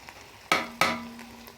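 Fried vegetables go into a pan of vegetable biryani: two quick clattering drops land close by, each followed by a brief hiss of sizzling.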